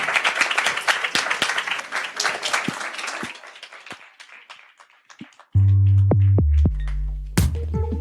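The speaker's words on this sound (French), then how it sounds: "on peut vous applaudir" An audience applauds at the close of a French podcast discussion about comics, with dense clapping fading over about five seconds, followed by a few low thumps and a sustained hum.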